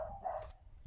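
A pet dog gives a single short bark, close by and fairly loud, over a low background rumble.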